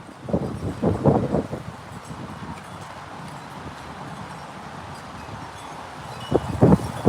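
Strong gusty wind blows outdoors, roaring against the microphone in loud bursts at the start and end with a steadier rush between.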